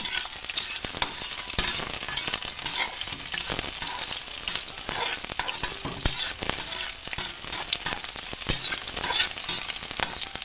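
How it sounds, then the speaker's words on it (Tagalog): Hotdogs frying in a pan, a steady loud sizzle and crackle with scattered pops and stirring scrapes, heard alone without talk. "Hotdog na lang muna yung niluto namin dahil ito yung madali lang lutuin."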